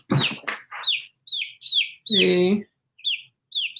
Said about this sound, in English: She's a week old, and that's how big these chickens get.